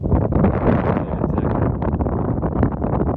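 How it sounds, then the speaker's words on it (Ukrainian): Strong gusting wind buffets the microphone, a steady roaring rumble that continues without a break. "Вітер такий сильний, що просто з ніг дуває."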